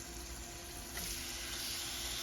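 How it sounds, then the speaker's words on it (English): Lamb chops sizzle in a pan with garlic over low-medium heat, a steady soft frying hiss that grows slightly louder partway through, with no talking. "I want to hear that, even if it's a light sizzle, something."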